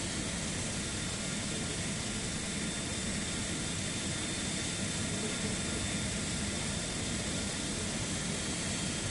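An airliner taking off in Microsoft Flight Simulator 2024, heard as a steady, loud, broadband jet engine roar that holds constant throughout, with no talking.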